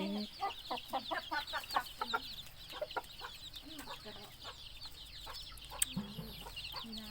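Chickens clucking in a backyard coop where ducks and chickens are fed, a busy run of close, rhythmic clucks and cackles over steady chirping birds, with a brief louder squawk near the end.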